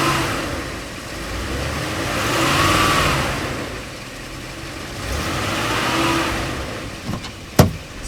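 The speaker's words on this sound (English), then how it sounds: "That is a lovely sound, that V8, isn't it?" A 7.5-litre V8 car engine swells and settles in two long revving waves, loud and steady with no talk, ending in a sharp click.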